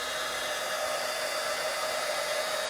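A heat tool blows steadily as it warms thick textured paste on a handmade card, giving a constant loud broadband whoosh with no talking that cuts off abruptly at the very end.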